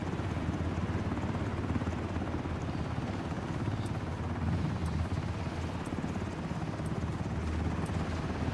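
A helicopter in the video game Ring of Elysium produces a steady, dense rotor and engine roar that stays even throughout, close and dominant, with faint rhythmic ticks riding on top.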